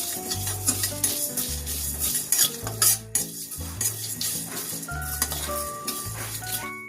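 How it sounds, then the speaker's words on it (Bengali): Fenugreek seeds, fennel seeds and dry red chillies being stirred and dry-roasted in a dry pan, with a utensil scraping and clinking against the metal in a steady, busy rhythm, close and moderately loud, with no talking. "এবার নেড়ে চেড়ে কাঠ খোলায় ভেজে নেব।"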